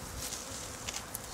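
Italian honeybees buzz steadily and faintly in a brief stretch, a soft continuous hum with small flickers as individual bees pass nearby.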